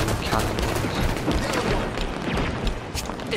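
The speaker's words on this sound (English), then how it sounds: "It's a guy on a big freaking cannon." Heavy cannon and gunfire in a Halo 5 Warzone match against Promethean soldiers, a dense, continuous barrage of loud booming shots and bursts filling the whole stretch.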